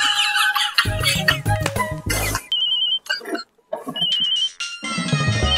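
A bright electronic phone ringtone plays in short repeating bursts, loud and close, between busy musical stretches.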